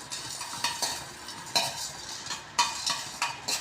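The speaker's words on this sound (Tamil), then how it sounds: "ஒரு கடாய் காய வச்சு மிளகு, சீரகம், தனியா இது எல்லாமே ட்ரை ரோஸ்ட் பண்ணிக்கணும்" Pepper, cumin and coriander seeds dry roasting in a hot kadai, with a light rattling scrape of stirring in irregular strokes, close and fairly quiet, no talking.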